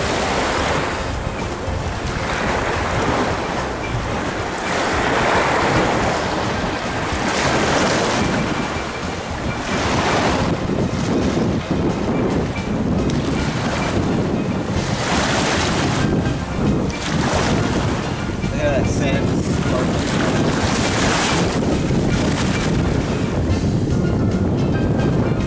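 Ocean waves off Belize wash and break in repeated surges under gusty wind noise on the microphone, a steady rushing texture with rising and falling swells, likely heard from a boat, with no talking.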